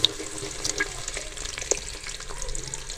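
Onions fry with black cardamom in oil for a black-pepper beef karahi, giving a soft, fairly quiet sizzle scattered with small pops and crackles throughout, without any talking.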